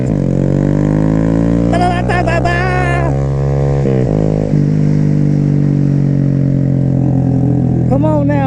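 A big bore Honda Grom motorcycle fitted with a Hindle exhaust, loud and close, revving hard as it accelerates through several gear changes, with its throaty engine note rising and dropping.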